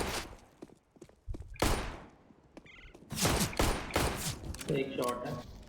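Gunfire rings out in a shooting video game as several sharp, loud shots and short bursts. The shots are spread across the moment and mixed with excited talking.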